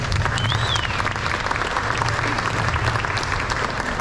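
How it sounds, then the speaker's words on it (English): Audience applause at an airshow opening ceremony, a dense, steady wash of clapping from a crowd with a few voices mixed in, sustained throughout. "Again, a big round of applause for Kevin Elliott."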